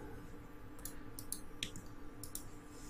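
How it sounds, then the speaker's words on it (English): Computer mouse clicking during color-grading work in Adobe Premiere Pro, a handful of sharp, close clicks spaced irregularly over a faint steady hum, with no talking. "control clicking to remove something"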